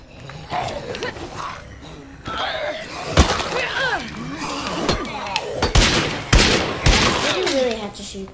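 Bursts of heavy video-game gunfire, several sharp loud shots cracking over a busy mix of roars and crashing, with a voice talking throughout.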